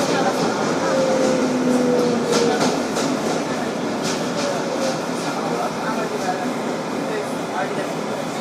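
Steady roar of a 2012 Kawasaki R-188 subway car on the 7 local bound for Flushing-Main Street, with continuous rolling rumble, faint squeals and rail clicks filling the interior.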